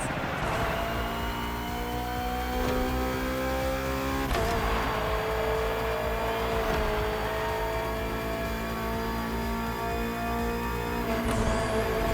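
BMW M Hybrid V8 endurance race car from 2023 in The Crew Motorfest, its engine holding a loud, steady high-pitched drone with rising revs and a sharp gear change midway, continuous and close throughout.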